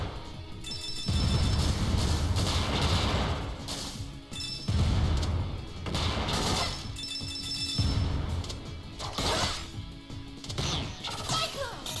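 Loud, heavy explosion bursts in the Freedom Planet video game, several booming crashes in a row over dense game music and effects, with a voice talking now and then.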